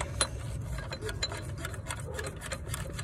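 Bolts are threaded and ratcheted in on a Toyota 2UZ-FE engine during a timing belt install, giving a quiet, steady run of rapid metallic clicks and scrapes close by.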